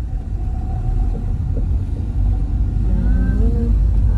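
A car accelerating in first gear during a driving lesson in France, its engine rumbling steadily close by and rising slightly in pitch as it pulls away.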